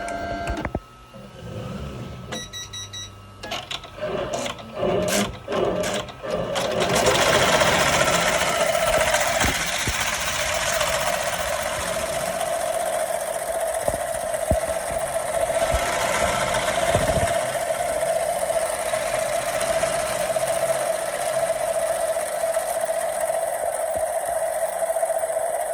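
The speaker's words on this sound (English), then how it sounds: "I'm just gonna record it stitching out." An embroidery machine stitches a design onto a sweatshirt with a steady, loud, rapid mechanical chatter and a sustained whine, preceded by a few clicks and start-up knocks.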